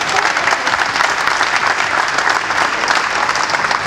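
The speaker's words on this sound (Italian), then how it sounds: "grazie della fiducia perché mi applaudite ancora prima che inizio a parlare" Dense, steady applause from an audience at a political speech in Italy, loud and close, continuous clapping filling the room without pause.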